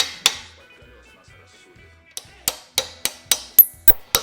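A hammer taps a small steering clamp back into place on the front suspension of a 1932 Ford rebuild: one strike, a pause, then a quicker series of seven or eight sharp metallic knocks, close and distinct.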